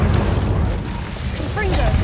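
In Hogwarts Legacy, the Incendio fire spell is cast with a loud, deep roaring whoosh that fills about two seconds, ending with a brief chirping flicker.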